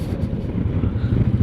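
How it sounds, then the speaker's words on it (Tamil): Strong wind gusts on a rough-sea beach in Kanyakumari, a steady low buffeting roar hitting the microphone throughout, with no voices. "நல்ல காற்று, திக்குன்னு அடிக்குது காற்று."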